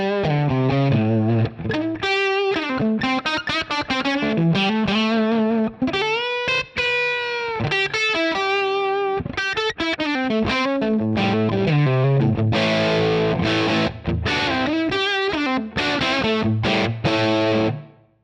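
An electric guitar played through a Dynamic Ambience reverb block set to a 12 meter room, giving a subtle, natural-sounding space to distorted chords and single-note lines that ring loud and continuous without any talk.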